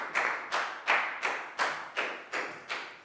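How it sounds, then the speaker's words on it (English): A Year 4 English class claps for a pupil named Pat: eight sharp, evenly spaced claps in a steady unison rhythm, close and fairly loud, with no talking. "Big round of applause for Pat"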